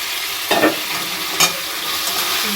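Curry being stirred in a pan after mustard and chili are added, giving a quiet continuous sizzle with two brief scraping stirs near the start and middle.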